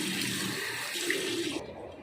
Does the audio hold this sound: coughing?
no